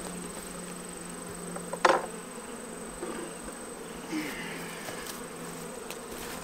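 Honey bees buzzing at an open, smoked hive during summer hive work, a soft continuous drone with a couple of brief, louder close passes.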